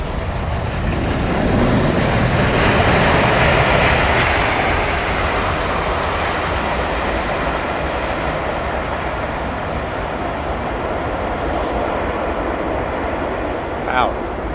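A Boeing 787 Dreamliner at London Heathrow gives a steady, broad engine roar from a distance that rises slightly early on and then holds level, with a brief knock near the end.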